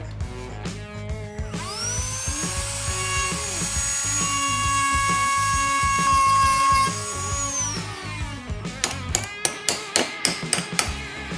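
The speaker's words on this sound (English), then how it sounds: "So what we're gonna do is grind away the heads off these little pins" Rotary grinder cutting the heads off small governor pins on a Briggs & Stratton Vanguard V-twin engine, a steady high whine lasting several seconds between bursts of knocking and tapping, close and loud.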